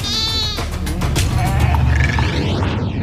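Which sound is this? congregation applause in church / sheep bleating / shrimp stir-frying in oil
sheep bleating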